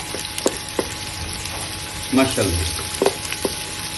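Two medium-sized onions fry in a pan over a gas flame, giving a steady low sizzle with scattered spoon scrapes and stirring clicks. A voice speaks briefly over it.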